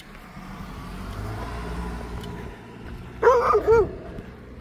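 A car passes by on a road, its broad rumble swelling steadily over a couple of seconds and then fading, followed by a dog barking loudly twice nearby.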